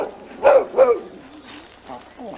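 Two quick barks from Ada, a small yard dog, sound close together near the start, then fade into low whimpering noises and a faint voice.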